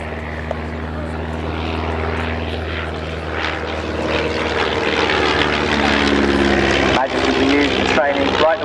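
Propeller-driven RAF training aeroplane developed from the Hawk trainer, its piston engine droning steadily and growing louder as it passes overhead, with a voice talking over it.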